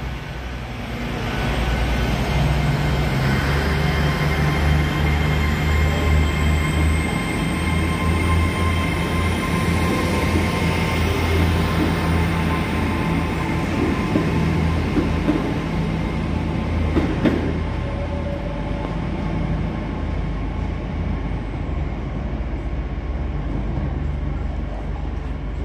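A TransPennine Express Class 802 Nova 1 train at Huddersfield station gives off a loud, steady rumble and engine hum that holds close and unbroken for the whole stretch.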